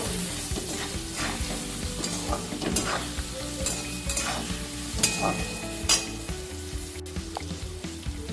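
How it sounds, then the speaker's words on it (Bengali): Cumin and coriander powder being stirred into a frying paneer curry, with a steady sizzle under repeated scraping stir strokes and a few louder clanks, close and without talk. "সামান্য জিরে গুঁড়ো আর ধনে গুঁড়ো নিয়েছি, এটা এখন আমি দিয়ে দেবো। একটু নাড়াচাড়া করে নেব।"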